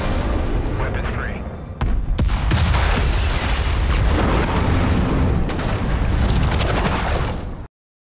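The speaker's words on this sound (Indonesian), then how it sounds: "ledakan bom menghancurkan tempat itu" A loud, rumbling bomb blast roars and keeps churning with debris-like crackles and booms for several seconds before cutting off abruptly.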